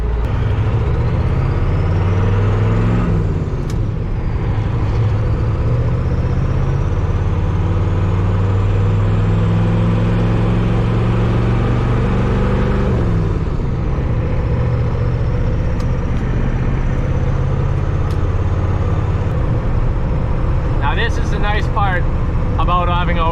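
A twin turbo diesel Ford F250 with a ZF5 manual gearbox cruises on the highway near 1500 RPM, giving a steady loud low engine drone and road rumble throughout, with someone talking over it.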